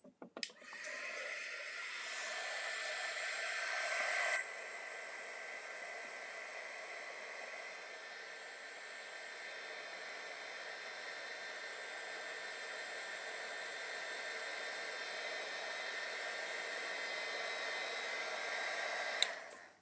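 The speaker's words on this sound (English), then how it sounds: "I'm going to hit it with our heat gun." A heat gun blows a steady, loud broadband hiss onto a jewelry cap at a workbench, with a brief shift in tone near the start and an abrupt click as it shuts off at the end.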